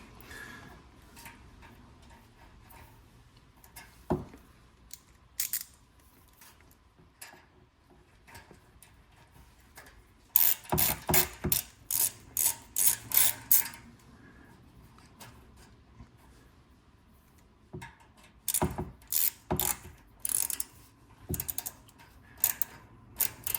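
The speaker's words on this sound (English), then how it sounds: "We'll go with our little ratchet." Quarter-inch ratchet tightening an exhaust part on a Porsche: bursts of rapid, crisp clicking in a quiet workshop, one long run of quick ratchet strokes in the middle and another later, with sparse isolated ticks between.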